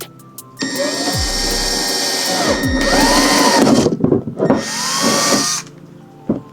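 A power drill bores through a plant pot during a Philodendron gloriosum repotting, the motor whining loudly and steadily with its pitch sagging under load, a brief pause, then another long burst before it stops.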